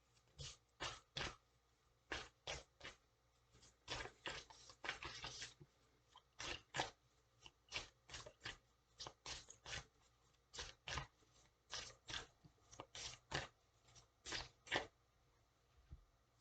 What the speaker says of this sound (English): now I'm going to pull some oracle cards for you